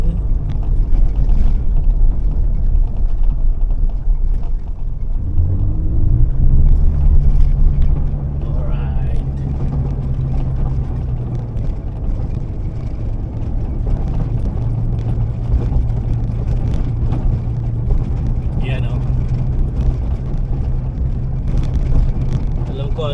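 Car climbing a slippery slope in Barangay Bulo, Labrador, Pangasinan, its engine a steady low drone throughout with wind buffeting the microphone, and a voice talking over it for most of the clip.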